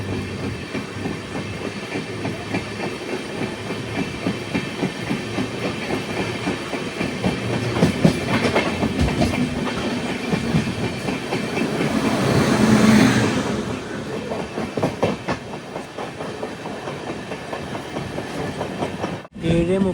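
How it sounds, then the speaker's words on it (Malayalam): A Guruvayur–Thiruvananthapuram Intercity Express train rolls along the rails after leaving Kayamkulam Junction, a steady rumble with repeated clickety-clack wheel beats, swelling briefly midway, with no talk. "അങ്ങനെ കായംകുളം ജംഗ്ഷനിൽ നിന്ന് ഇതാ നമ്മുടെ ട്രെയിൻ എടുത്തു"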